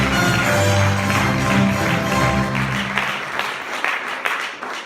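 An audience applauds at a theatre festival, a dense wash of clapping that is loud at first, then thins out into scattered individual claps toward the end.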